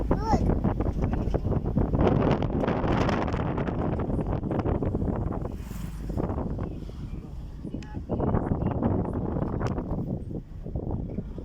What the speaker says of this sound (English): You guys so windy today.